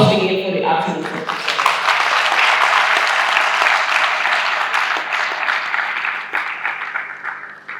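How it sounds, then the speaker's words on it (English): Audience applause at a university lecture on open and distance learning administration swells after a brief opening moment and holds as a dense, steady clapping from a nearby crowd until it thins at the very end. "A round of applause again for the acting executive."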